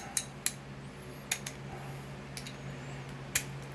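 A half-inch wrench working on a stubborn fuel line nut at the carburetor of a Briggs and Stratton engine on a log splitter: a few light scattered metallic clicks and taps over a faint steady hum, quiet and close, with no talk.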